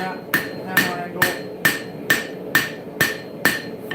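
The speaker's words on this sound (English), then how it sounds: "forging that bevel, flip it over, forge it down the same to the other side, keeping that hammer angle" Hammer blows forging the bevel of a steel dagger: eight evenly spaced ringing strikes about half a second apart, loud and close, with no talking.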